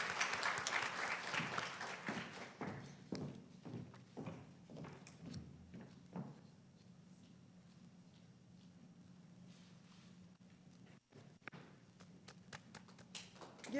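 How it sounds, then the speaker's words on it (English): Audience applause fills a graduation ceremony hall, dense clapping loud at first, then thinning into scattered claps and a quieter stretch over about fourteen seconds. "Give her a round of applause."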